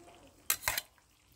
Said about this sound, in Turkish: Şimdi artık kuyruk yağını ilave edeceğim.